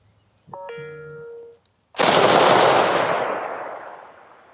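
A single loud rifle gunshot cracks close by and its boom rolls away over a couple of seconds, after a short tonal electronic beep beforehand.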